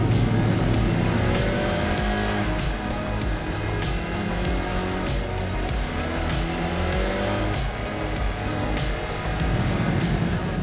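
A Hyundai i30 N engine revs hard and climbs through rapid gear shifts, loud and close throughout with no gaps, a dense rising-and-falling roar broken by brief shift cuts.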